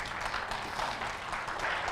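Audience clapping at a medical awards summit honouring a woman gynecologist, a steady dense wash of applause sustained throughout at moderate loudness, with no voices over it.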